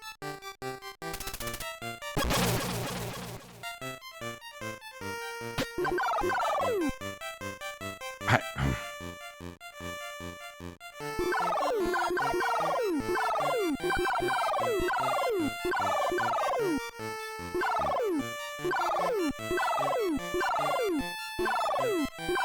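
A flock of birds in a video game gobbles continuously in a dense, overlapping chorus of turkey-like calls, loud and close, with a few rising whistle-like tones near the start.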